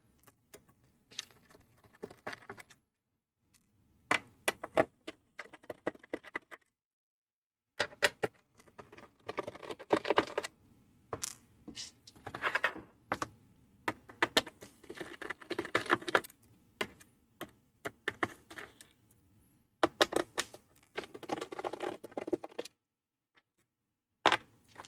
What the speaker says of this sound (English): get a Phillips screwdriver. Go ahead and remove the screws